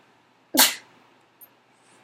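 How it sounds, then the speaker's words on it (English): One sharp, close sneeze bursts out of near silence, followed by a couple of faint clicks. "I have to sneeze."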